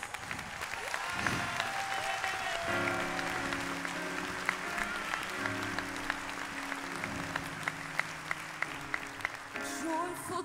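Audience applause for a 22-piece show orchestra, sustained clapping throughout with band instruments sounding underneath and sharper claps standing out near the end.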